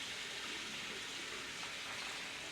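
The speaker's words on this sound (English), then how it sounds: "I'm going to wash my edges brush." Water runs steadily from a tap while an edges brush is rinsed under it, a continuous close splashing gush with no pauses.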